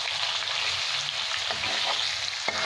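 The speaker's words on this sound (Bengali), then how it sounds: "এবার আমি আলুগুলো ভেজে নিচ্ছি" Potatoes seasoned with salt and turmeric sizzle steadily in hot oil while cooking for a chicken curry, a dense continuous crackle close by with a few faint stirring knocks and no voices.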